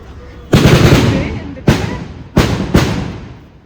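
Four loud firecracker blasts go off nearby as a ritual offering at a temple, one after another at uneven intervals, each boom echoing and fading before the next.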